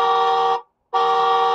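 Two electronic horn beeps from a white LT598 toy ride-on jeep, each about half a second, separated by a brief silence; a buzzy, steady toy-like tone, close and loud.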